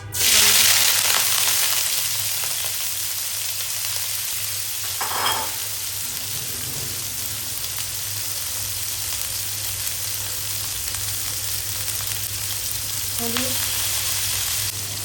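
Shrimp frying in a pan over a very low gas flame, a steady, even sizzle held throughout with a couple of brief clinks and stirring sounds, no talk.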